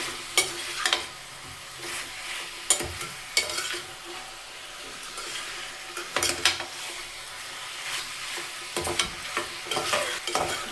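Chicken pieces with salt fry in a pan for a country-style chicken curry, giving a steady close sizzle broken by repeated scrapes and clinks of a spatula stirring against the pan, with no talking.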